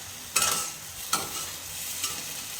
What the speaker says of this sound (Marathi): आता ही छान परतून घेऊया मसाला आपण